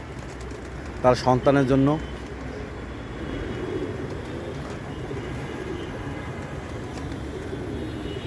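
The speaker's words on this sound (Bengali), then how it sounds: "আমারগুলো অনেক কবুতর আছে খোপের ভিতর" Pigeons in a coop give a short burst of cooing near the start, close by. A person talks over a low background rumble for the rest.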